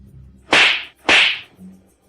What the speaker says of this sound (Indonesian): Ayo, tampar dia 2 kali lagi.